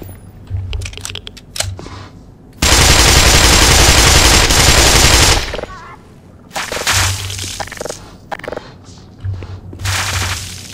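Gunfire in the game Black Mesa: bursts of rapid shots and then a loud sustained roar of automatic fire lasting about three seconds, followed by more scattered crackling shots and clatter, close and loud.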